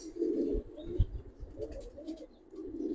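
A female Giribaz pigeon, released by hand, gives soft low coos in short repeated phrases, with a light tap or flutter near the middle, close and quiet.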